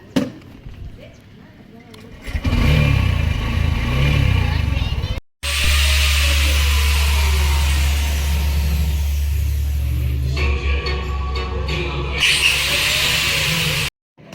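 A motorbike ridden home from a vegetable-buying trip, its engine a steady low drone with shifting revs and a brief cut partway. Someone talks over the ride at intervals.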